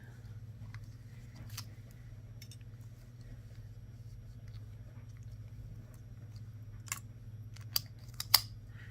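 Craft wire snipped for a sun-catcher project, a few sharp, quick cutter clicks late in the stretch over a low steady hum, no talking.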